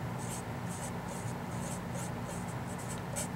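Pen or chalk scratching out a word in short, repeated scratchy strokes during a trigonometry lesson, close and fairly faint over a steady low hum, with no talking.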